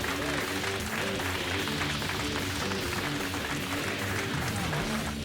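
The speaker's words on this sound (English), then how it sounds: "big round of applause to you guys" A crowd applauds at a drifting competition in Irwindale, steady clapping and cheering mixed with engine noise and a voice talking over the top.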